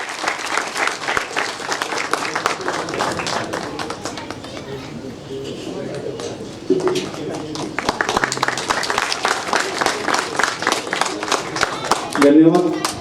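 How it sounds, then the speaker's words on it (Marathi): Audience applause for Gauri Sawant at a youth organization's welcome ceremony in Morgaon, a loud, sustained crowd of rapid hand claps that dips briefly midway and then surges again. "सर्वांनी जोरदार टाळ्या वाजवायच्या आहेत गौरी सावंत मॅडमसाठी."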